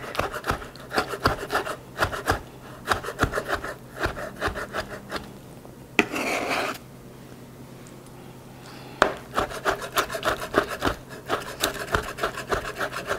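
Knife chopping chipotle peppers finely on a cutting board, a quick steady run of close wooden taps and scrapes broken by a short pause and a brief rustle before the rhythmic chopping resumes.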